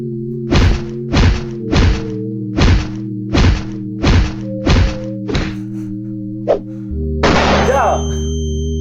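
Series of about eight heavy, evenly spaced thuds from flashlight move impacts in a WWE wrestling video game, loud and close over a steady game hum, followed by a brief crowd-like swell.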